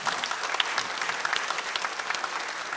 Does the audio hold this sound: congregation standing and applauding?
yes